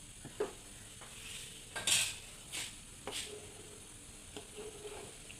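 A spoon stirs fish curry in a pan in a home kitchen, giving scattered soft clinks and scrapes against the metal, with one louder clatter over a faint background hiss.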